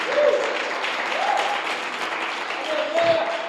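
An audience applauding in a church during an evening service, a thick continuous patter of many hands clapping at close range, steady throughout with a few brief cheers or whoops rising above it.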